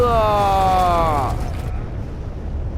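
An explosion goes off in the online game Predator: Hunting Grounds, a rumbling blast that follows an excited voice and fades into a low, rolling roar.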